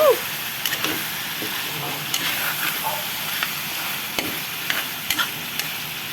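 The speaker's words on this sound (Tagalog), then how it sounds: "lagay natin yung patatas na ginisa natin kanina" Sautéed potatoes tipped into sizzling chicken curry and stirred, giving a steady close hiss of frying with scattered scrapes and clicks of the spoon throughout.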